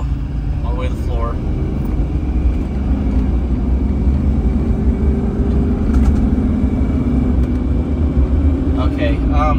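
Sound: Duramax diesel truck engine at full throttle

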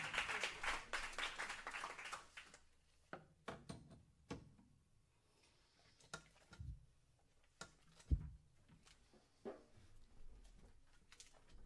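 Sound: audience clapping for a song

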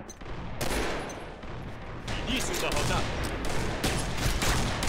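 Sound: sniper rifle gunfire in video game Combat Arms

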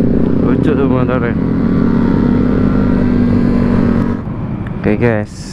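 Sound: Honda Scoopy motorbike riding

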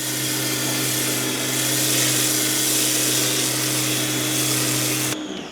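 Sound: high-pressure washer with rotary mud nozzle, Stanley SXPW25CDSS

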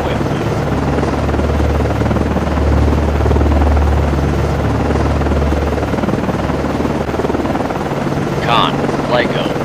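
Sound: aircraft orbiting the ship, from video game Cold Waters

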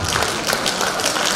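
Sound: audience applause at Chinese New Year gala

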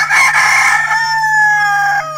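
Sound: rooster crowing

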